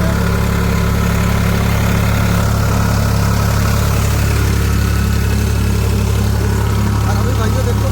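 A Farmtrac 45 Powermaxx tractor engine runs close by, a steady low, throbbing idle rumble that holds evenly for the whole stretch without revving up or down.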